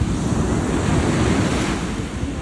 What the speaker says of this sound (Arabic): خدناه ورحنا قعدنا على البحر اللي قصاد الشيخ وفيق